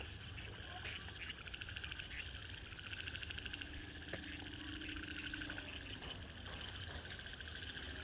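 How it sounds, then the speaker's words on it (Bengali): After rain, frogs croak in a dense outdoor chorus mixed with steady shrill cricket trilling, continuous and moderately distant, with a few sharper calls standing out and no voices. "চারদিকে ভাউয়া ব্যাঙের ডাক মনে হয়"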